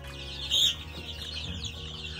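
Gamefowl chicks in a rearing pen give a brief burst of high peeping over a low, steady background hum, close and moderately loud.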